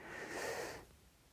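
A single deep breath is drawn in, close and airy, lasting under a second before trailing off into quiet.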